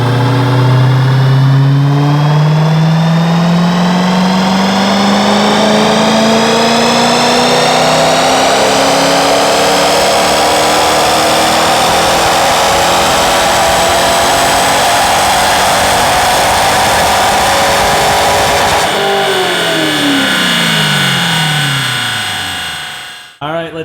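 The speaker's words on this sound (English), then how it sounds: "I'm going to sync the engine RPM and the dyno RPM for our baseline horsepower pull" A 20-year-old Chevrolet Corvette C5 on a chassis dyno makes a stock-tune baseline horsepower pull, its engine roaring loud and close as revs climb steadily for about nineteen seconds, then dropping off sharply as the throttle closes.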